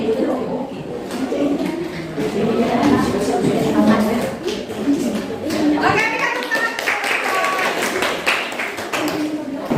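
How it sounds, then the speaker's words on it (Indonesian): Hands clapping together in a classroom as students applaud a group presentation, a dense burst of claps under ongoing chatter and voices. "Oke, kita tepuk tangan."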